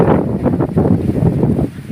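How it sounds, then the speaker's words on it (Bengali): Strong desert wind buffets the microphone with a steady low roar and gusty rumbling throughout, no voices present. "এই মরুভূমির প্রচুর হাওয়া"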